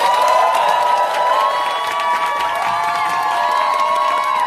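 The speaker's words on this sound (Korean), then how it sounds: "큰 함성과 박수로 맞아주시기 바랍니다" A seminar hall audience welcomes a speaker with loud, sustained cheering, whooping and clapping, a continuous crowd roar with high voices rising above it.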